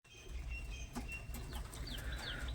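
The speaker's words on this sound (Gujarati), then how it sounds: "અહીંયા બધા કબૂતર આપણા બેઠા સવારના ટાઈમમાં" Pigeons perched at a farm in the morning give faint coos and chirps, with a brief flutter of wings, over a low rumbling background.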